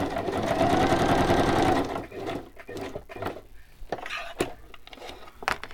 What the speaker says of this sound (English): Okay, I'm going to stitch.